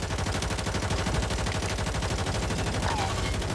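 Rapid, dense gunfire rattles without pause in the Warzone shooter, a loud continuous burst of automatic fire filling the whole stretch with a steady, even rhythm.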